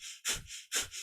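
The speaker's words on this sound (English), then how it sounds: "it's a panting breath through the nose" Breath of fire in kundalini yoga: two quick, forceful panting breaths through the nose, close and rhythmic, each a sharp hissing exhale.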